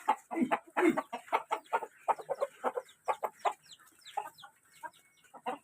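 Native chickens cluck in a steady run of short, close calls, one bird after another, with brief pauses between them and no talking over the top.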